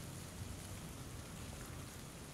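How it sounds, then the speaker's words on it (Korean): Rain in the video game PUBG Battlegrounds forms a steady, faint hiss of falling drops with a soft low rumble underneath, constant and even throughout. "배틀그라운드 빗소리"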